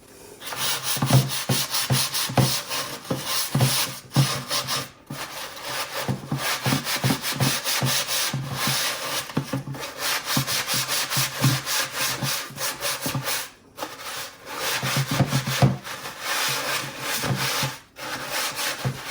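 Steel wool scrubs a plastic brush holder in close, rhythmic back-and-forth strokes, a gritty rasping that comes in bursts with brief pauses and no talking.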